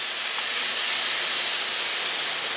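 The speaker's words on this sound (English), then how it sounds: "Get a nice brown sear on this chicken." Chicken breasts searing in a hot red copper pan give off a loud, steady hiss of sizzling fat that holds evenly from start to finish, with no talking.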